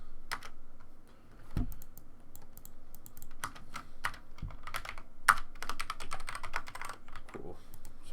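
Code being typed on a computer keyboard: quick, uneven bursts of close key clicks and taps with brief pauses, moderately quiet.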